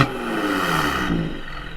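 A car fitted with a Borla G70 exhaust revs in eco mode, giving a short, loud, close rise and fall of engine note with no voices.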